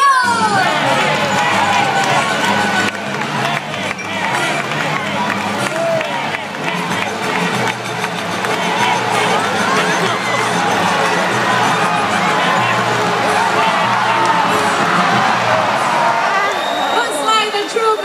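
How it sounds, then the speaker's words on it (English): A crowd of supporters cheers and shouts at a bird show race, dense and loud throughout with layered voices, whoops and chatter blending into a continuous roar. "cheer much louder"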